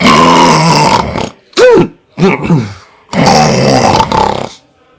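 A voice imitates a man's loud snoring in several separate bursts of snorts and throaty grunts, close and loud, with short pauses between them.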